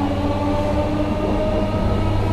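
Class 315 electric train running into London Liverpool Street, heard from onboard: a steady loud rumble of wheels and motors with a low hum throughout, no talking.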